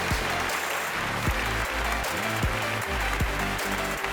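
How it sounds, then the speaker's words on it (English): An audience at a panel discussion during an animation event in Mumbai applauds for the panelist, giving moderate clapping with a few sharper, distinct claps standing out, while background music plays along. "please give a huge round of applause to Paul"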